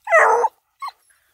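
A Bluetick Coonhound puppy lets out one loud, close bark followed by a shorter, softer yelp a moment later, with no one talking.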